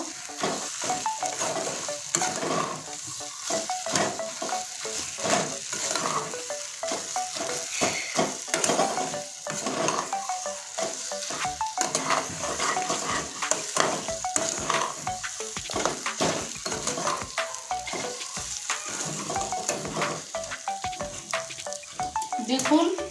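Taro greens frying with a fish head and spices including cumin and coriander powder, steady sizzle with rapid scraping and clattering stirring strokes against the pan, close and busy throughout.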